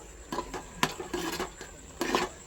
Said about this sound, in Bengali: আর এই পাশে আমি মাঝে মাঝে ঢাকা খুলে এটা নাড়াচাড়া করে দিচ্ছি